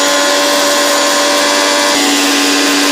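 An electric grinder whirs loudly and steadily while blending spices into a paste for a homemade pickle, its motor tone shifting slightly partway through.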